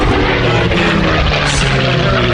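A P-51 Mustang propeller fighter flies past at an air show, its piston engine a loud, steady, broadband roar filling the whole stretch without a break.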